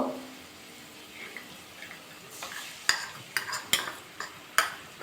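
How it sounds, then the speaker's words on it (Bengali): A spoon scrapes and stirs in a pan where spice paste goes into fried onions and green chillies for cabbage kofta, giving sharp, irregular clinks and scrapes over a faint sizzle, close and moderately loud. "পেঁয়াজটা কাঁচা লঙ্কাটা কিন্তু ভাজা হয়ে গেছে যে মশলার পেস্টটা আমি তৈরি করে রেখেছিলাম সেটা আমি দিয়ে দেবো"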